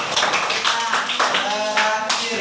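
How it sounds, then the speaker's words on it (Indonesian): A classroom of students claps for a student group, a short burst of quick, close hand claps with a few voices underneath. "tepuk tangan untuk kelompok Kamiran."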